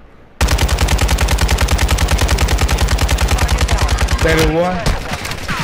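Rapid sustained automatic gunfire in a first-person shooter game, loud and close, a steady stream of evenly spaced shots lasting several seconds before stopping abruptly, with a brief spoken phrase near the end.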